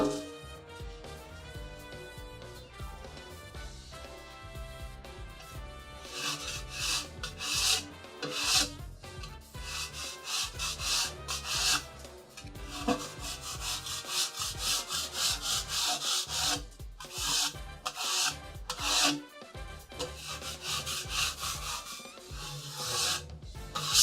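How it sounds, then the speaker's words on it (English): A charcoal-crusted pizza stone being scraped clean, with continuous loud rasping and rubbing strokes running throughout at close range, alone with no talk. "So scraping the pizza stone, getting all the charcoal off of it"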